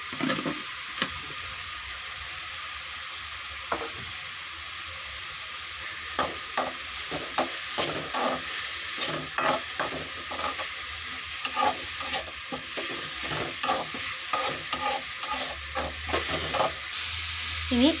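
A pan of mushroom curry sizzles steadily while a spoon stirs through it and chopped tomato goes in, with repeated clinks and scrapes over the constant frying hiss.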